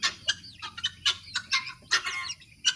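Several chickens, including Bangkok chickens and guinea fowl, cluck in short, irregular bursts nearby, a busy chorus of clucks with no talking.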